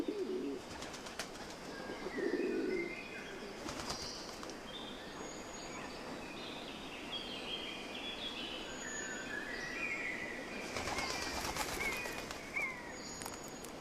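Laurel pigeons in a laurel forest of the Canary Islands give soft, faint calls and brief wing flaps against a steady wooded background, with scattered distant bird notes.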